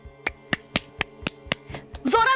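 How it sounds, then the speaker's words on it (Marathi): Steady hand claps ring out about eight times at an even, quick pace, close and distinct, before a voice breaks in at the end. "आता ना तू टाळ्या वाजव."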